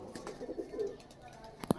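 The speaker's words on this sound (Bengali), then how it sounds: "এই 1 জোড়া আন্দ্রা কালাঙ্কা পায়রা দেখুন।" A pair of Andra Kalanka pigeons coo softly in brief, low murmurs among pigeon keepers, with faint voices in the background.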